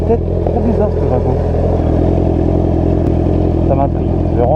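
A motorcycle engine runs nearby with a loud, steady low idle rumble and mechanical clatter, a few brief revs rising over it, with a voice talking over the engine noise.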